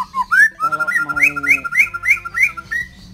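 A white-rumped shama from Borneo whistles a bright, varied song of rising slurs and quick repeated notes, loud and close, with no other sounds.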